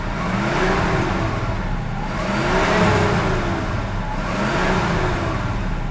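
Mercedes-Benz W116 350SEL V8 engine, freshly repaired after a faulty distributor, revving loudly up and down in three rising-and-falling swells over a steady rumbling idle, close by.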